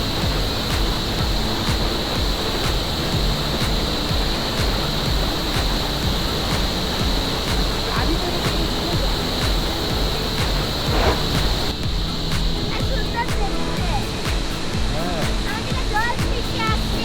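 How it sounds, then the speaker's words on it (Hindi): Jang Falls waterfall near Tawang makes a steady, loud, broadband roar of falling water that fills the whole stretch without a break, with a constant hiss and no clear voices. "झरने तक पहुंचने के लिए हमें लगभग 800 मीटर नीचे उतरना पड़ेगा।"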